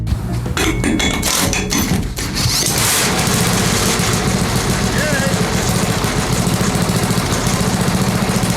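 A Briggs & Stratton 190cc horizontal-shaft small engine fitted with a replacement carburetor idles steadily and loudly, its continuous low chug running throughout after some brief clattering handling noises at the start.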